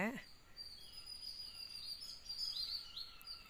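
Faint, high-pitched bird chirps and trills drift through a quiet outdoor setting, with a brief low sound at the very start.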